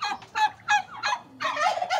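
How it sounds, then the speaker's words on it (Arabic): Poultry calling in a mixed farm flock that includes silkie and fighting fowl, with repeated loud, close bursts of clucking and crowing-like calls in a fast, uneven rhythm and no talk. "يكون عندك دجاج قطني أو سلكي، يكون عندك دجاج مقاتل"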